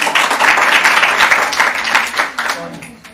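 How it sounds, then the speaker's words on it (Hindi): Students and audience in a college hall clap to welcome a student at a quiz event, a lively burst of applause that is loud at first and then thins and fades, with some voices mixed in. "आप लोग एक बार पुनः इनका तालियां बजाकर हार्दिक अभिनंदन कीजिए।"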